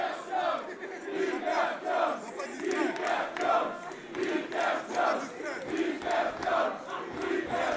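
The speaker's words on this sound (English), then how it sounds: "PWH fans here chanting for Decaf Jones" Pro wrestling crowd at a PWH event chanting for Decaf Jones, a loud rhythmic two-beat chant repeating steadily from a packed audience.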